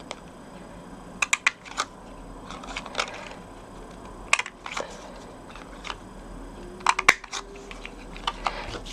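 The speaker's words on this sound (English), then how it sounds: "I've got my Project Life corner rounder, and I'm going to round off the corners of this piece of card" A Project Life corner rounder punches the corners off a piece of card, giving a series of sharp, close clicks and snaps in small clusters over a faint background hiss.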